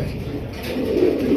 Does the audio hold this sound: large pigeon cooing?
yes